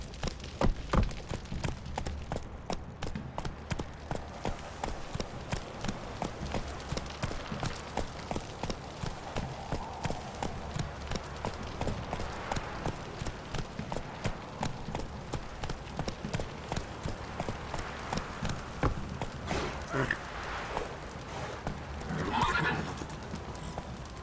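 Roach the horse trots in The Witcher 3: steady, evenly paced hoofbeats clip-clop throughout, with a whinny and a voice speaking over the hooves.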